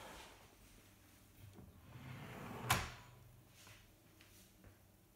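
A desk drawer slides back in on its runners, giving a soft rolling glide that ends in a single sharp knock as it closes, faint and close in an otherwise quiet room.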